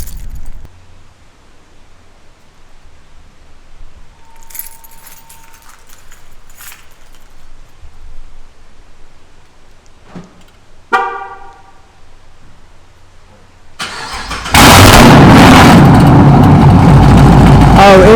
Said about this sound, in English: let me give y'all this good old cold start